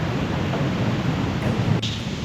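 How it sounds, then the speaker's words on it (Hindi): A waterfall in Ubud, Bali roars in a steady, dense wash of rushing water, loud and continuous from start to end, with no talk over it. "Watching waterfall is so soothing."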